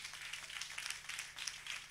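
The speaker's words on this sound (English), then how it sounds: "give Dr. Smith a round of applause" Graduation ceremony audience applauding at a distance, a steady, fairly faint wash of many hands clapping throughout.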